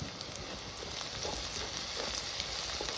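Green chilies frying with onions and spices in a village-style kitchen give a steady, soft crackling sizzle, fairly quiet and continuous with faint spitting pops and no voices.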